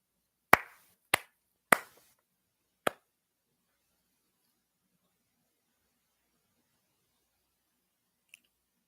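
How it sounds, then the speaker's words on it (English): Four sharp single hand claps ring out close and clear at an even pace, each one cut off short, then a long silence broken only by one faint click. "It's the universal sign for gratitude. That's what clapping is."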